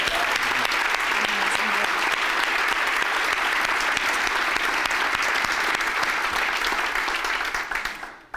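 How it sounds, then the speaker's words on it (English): Loud, dense applause at a social enterprise conference thanking organizers, a full room clapping continuously before fading out at the very end. "a special round of applause for John and Megan from SERI for putting together"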